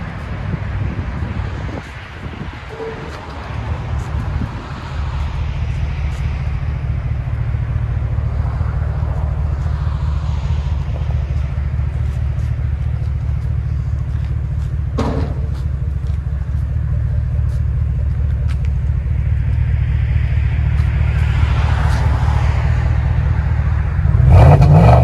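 A GMC Sierra 1500 Denali with a 6.2L V8 and aftermarket exhaust rumbles deep and steady, the low throaty drone swelling slightly near the end, with some wind noise.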